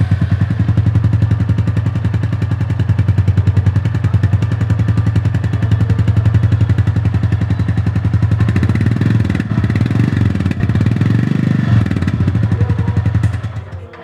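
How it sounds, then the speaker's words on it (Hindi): A Royal Enfield Goan Classic 350 single-cylinder motorcycle idles with a loud, even thump from its exhaust, then blips the throttle into a rougher, deeper rev before settling and cutting off. "पहले हम सुनते हैं गोआन क्लासिक 350 का एग्जॉस्ट नॉट।"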